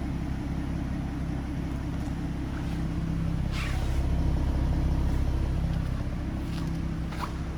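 A 2011 Ford Mustang Premium convertible idles with a steady, low, moderate rumble that holds even throughout, with a few faint higher sounds from outside.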